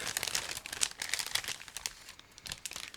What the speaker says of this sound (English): just give me a second to open this plastic bag